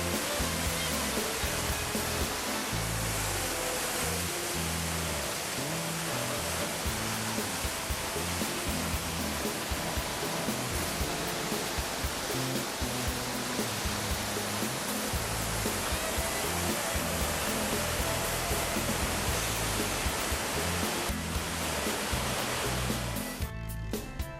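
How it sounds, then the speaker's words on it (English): Numa Falls, a small waterfall in the Rockies between Lake Louise and Jasper, heard up close as a dense, loud, constant roar of rushing water throughout. "Numa Falls is not a big falls but cool to see and hear up close."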